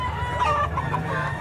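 A rooster at a Mantalungon, Cebu market clucks and calls in a short burst close by against a noisy background hum, with no talk.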